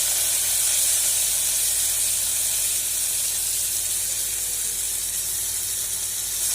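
Chopped tomatoes sauté with onions in a pan for a Tamil paruppu sadam, giving a steady, soft, continuous sizzle and hiss with no talking.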